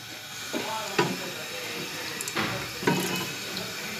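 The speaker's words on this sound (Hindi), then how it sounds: "1 किलो मैंने इसके अंदर पानी डाला है" Water pours into a pressure cooker holding mustard greens and spices for sarson ka saag, a steady faint splashing with a few louder gushes, close by in a home kitchen.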